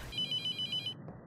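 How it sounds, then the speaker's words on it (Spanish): A cell phone rings in the horror game The Mortuary Assistant: a close electronic ringtone pulses in quick, even bursts for about a second, then stops, with no voices over it. "El celular, el celular, el celular, el celular."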